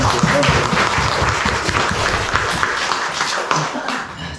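A church congregation applauds together, a sustained wash of clapping that swells early and tapers toward the end, with some voices mixed in.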